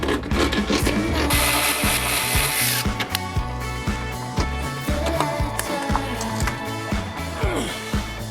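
Metal tools scrape, rub and clank under a 1968 Mustang while the seat bolts and nuts are worked loose from below, with repeated close knocking and grinding in an uneven rhythm.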